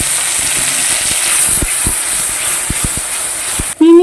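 Ground cashew and melon seed paste goes into hot oil with bay leaves, chillies and radhuni for a pumpkin-leaf curry, a loud steady hiss and sizzle with spoon knocks against the pan, cut off abruptly near the end.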